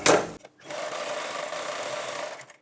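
A sewing machine runs a continuous stitching burr on blouse fabric after a brief start and a short pause, steady and close, with no voices.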